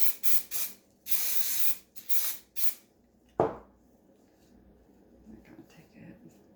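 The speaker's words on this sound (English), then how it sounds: "do a good little spray on it." Krylon Glitter Blast spray sealer misted from an aerosol can onto a faux holiday lollipop: several short hissing bursts and one longer spray, then a tap and quiet handling.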